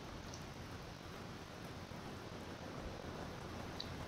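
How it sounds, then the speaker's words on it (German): Steady broadband rain hiss in the submarine game UBOAT during a WWII English Channel breakout mission, an even, continuous wash with no break and no voices. "Jetzt geht sogar Regen los."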